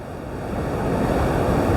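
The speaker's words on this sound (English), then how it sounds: "That is getting absolutely battered by giant waves" Large sea waves pound the rocky Pembrokeshire coast near St Govan's Head, a continuous roaring wash of surf that swells slightly louder, mixed with wind buffeting the microphone and no voices.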